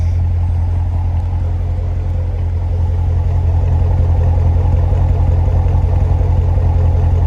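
A 2017 Corvette Grand Sport engine idles with a deep, loud rumbling chug, steady and close throughout.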